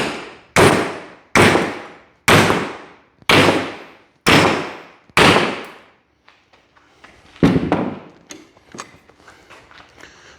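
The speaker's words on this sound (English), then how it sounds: "see if we can break them with a hammer" Six loud, evenly spaced hammer blows ring on a welded 1/8-inch steel plate held in a vise, each decaying quickly, followed by a few lighter clanks and handling noises.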